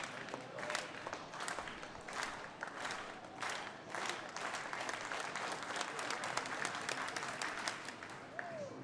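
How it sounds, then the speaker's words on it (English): A stadium crowd claps in a steady rhythmic beat at the Australian Athletics Championships, the claps coming in regular pulses from far across the stands, with a commentator's voice faintly under them. "the crowd, let's start the clap"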